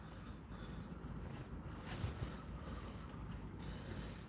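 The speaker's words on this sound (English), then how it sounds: "It's kind of windy here in Florida" Steady wind roars across a microphone at St. Augustine Beach, Florida, a continuous low rumbling buffet that swells briefly near the middle and carries on alone without any voices.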